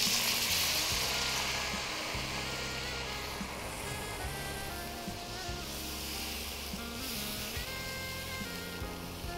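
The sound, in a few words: water added to frying gram-flour gravy, sizzling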